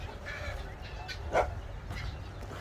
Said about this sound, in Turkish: Niye havlıyor?